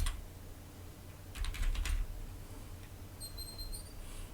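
Quick burst of typing on a computer keyboard into a search box, a short cluster of close, light key clicks in a quiet room, followed by a few faint high electronic tones.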